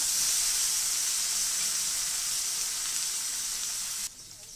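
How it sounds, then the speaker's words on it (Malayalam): Okra with vegetable masala and tomato fries in a pan, giving off a loud, steady bright sizzle with faint stirring underneath, until the hiss drops sharply near the end. "വെജിറ്റബിൾ മസാലയും കൂടി ഇട്ട് നല്ലപോലെ ഇളക്കിയിട്ട് ഒന്നാവട്ടെ, മിക്സ് ആവട്ടെ."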